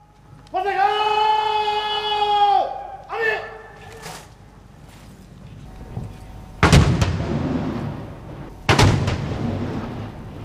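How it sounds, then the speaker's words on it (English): A 21-gun salute fired by the Tri-Forces during a guard of honour for the President: a sustained brass call comes first, then two loud, booming cannon blasts about two seconds apart, each trailing into a rumbling echo. "A guard of honour was accorded by the Tri-Forces to the President, followed by a 21-gun salute."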